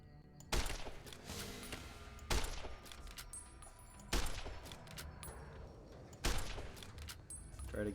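Four loud, spaced gunshots from a weapon in Fallout New Vegas ring out roughly two seconds apart, each sharp crack trailing into a rumbling echo over steady background game noise.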